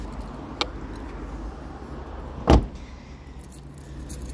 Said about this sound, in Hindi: गाड़ी लॉक करता हूँ।